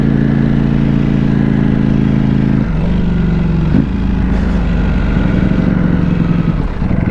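A Ducati Panigale V4S motorcycle engine drones steadily while riding, a loud low hum that shifts pitch around the third and fourth seconds, with wind and road noise throughout and no talking.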